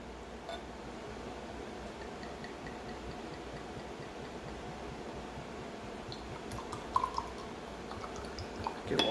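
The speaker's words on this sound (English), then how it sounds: "I'll just pour it so you can kind of see." Lone Pint Yellow Rose IPA beer pours from a bottle into a glass, a soft, close, continuous foamy gurgle and fizz with faint ticks and drips, growing slightly louder toward the end.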